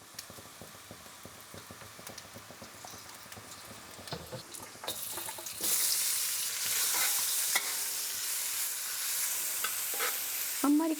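Vegetables for home-style yakisoba stir-fry in oil in a pan over moderate heat, with soft tapping and scraping at first, then a broad, steady sizzle that swells partway through and carries on to the end.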